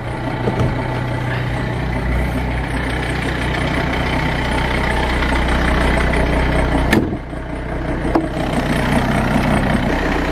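A Renault Clio 2 with the 1.5 dCi diesel idles steadily while warming up on a cold morning around minus 8 degrees, a loud close rumbling drone with a brief dip partway through and no talking.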